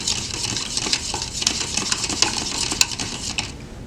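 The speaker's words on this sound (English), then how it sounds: "you're going to mix it until all of the salt is dissolved" Spoon stirring salt into water in a cup, a steady light scraping and clinking against the cup sides, close and fairly quiet, with a few sharper taps.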